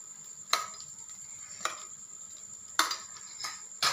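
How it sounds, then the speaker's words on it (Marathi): Grated coconut frying in ghee gives a steady soft sizzle, broken by several sharp scrapes and clinks of a spoon stirring against the pan. "आणि थोडंसं आता याच्यात मी अजून थोडंसं तूप टाकून घेते।"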